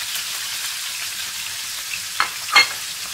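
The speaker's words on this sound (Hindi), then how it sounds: "और हमें इसको मजे से फ्राई करना है।" Pieces of goat liver frying with a dry spice mix and ginger-garlic paste in a pan, giving a steady close sizzle with two short clatters of stirring near the end.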